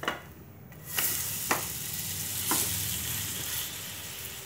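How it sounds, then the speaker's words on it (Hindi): A potato sandwich fries on a tawa with a broad, steady hiss of sizzling oil, interrupted by a couple of brief clacks of a spatula, close and even in level. "दोनों साइड अच्छी तरह से फ्राई कर लूँगी।"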